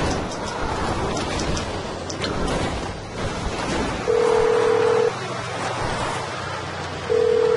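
Phone keypad dialing 911 in the video game GTA 5: a steady electronic tone beeps twice, each about a second long, over a constant hiss of rain.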